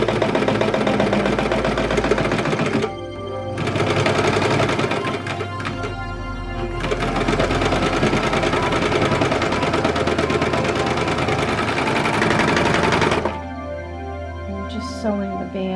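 A sewing machine stitches the band seams of a Simplicity 9801 children's sweatshirt, running in a loud continuous whir with two brief pauses before it starts up again.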